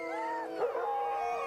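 Husky sled dogs howl close and loud in one long, wavering, unbroken cry with yipping tones mixed in, and no talk over it.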